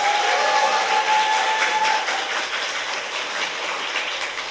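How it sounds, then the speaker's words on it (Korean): Steady, dense applause from a crowded audience at a political talk show taping fills the whole stretch, loud and close, slowly tapering slightly toward the end. "박수!"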